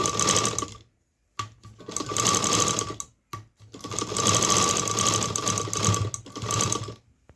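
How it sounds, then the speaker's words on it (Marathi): A sewing machine stitches a fabric pouch in several loud, close bursts of rapid whirring needle clatter, separated by short pauses, with no talking. "पाव इंचाचं अंतर ठेवून शिलाई करून घ्यायची आहे"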